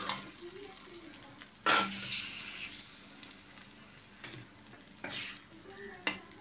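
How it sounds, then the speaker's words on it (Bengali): Pabda fish sautés gently in a pan with a soft, low sizzle, interrupted by a few distinct scraping clatters of a spatula against the pan. "মাছগুলো ভালোভাবে আলতোভাবে কষিয়ে নিতে হবে এভাবে।"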